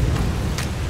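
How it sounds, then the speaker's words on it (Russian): Steady rain in the video game No one lives under the lighthouse hisses continuously with a low rumble underneath, broadband and fairly loud, with no voices. "просто вот дождик"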